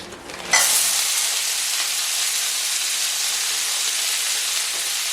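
A frozen mix of peas, corn and paprika is poured into hot oil in a pan and starts a sudden loud sizzle that settles into a steady, close frying hiss, with no speech.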